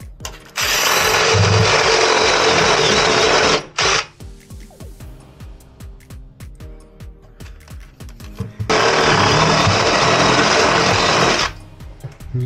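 An electric drill bores through a partition wall in an apartment, giving two long, loud, grinding runs separated by a quieter stretch of clatter and handling noise.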